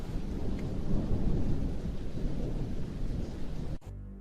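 Heavy rain pours down steadily with rolling thunder, a loud, dense wash of noise that continues close by and then cuts off abruptly near the end.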